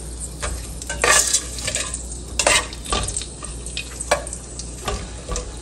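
Cardamom, coconut and almonds roasting in hot oil while being stirred, a continuous sizzle broken by repeated scraping clinks of a utensil against the pan at an irregular pace, close and clear with no talk.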